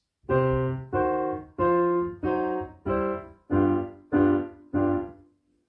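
Piano playing a blues introduction, eight evenly spaced chords in a steady rhythm, each ringing briefly before the next, loud and clear with no voices.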